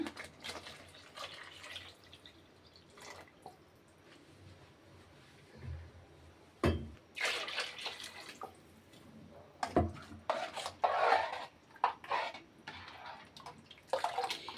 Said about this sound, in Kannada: ನೀರು ಹಾಕ್ತೀನಿ ಆ ಜಾರಿಂದ